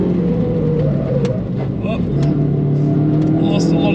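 Suzuki Swift racing against a Peugeot 206, a steady loud engine drone held at high revs throughout with no breaks, while someone talks over the car noise.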